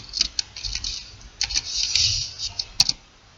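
Irregular clicks of typing on a computer keyboard, a few keystrokes then a short run of quicker taps, close and moderately soft, with no speech.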